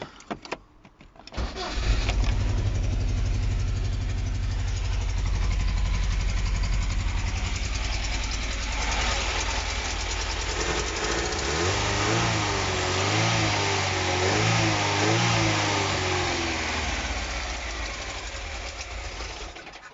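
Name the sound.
Talbot Express engine running and revving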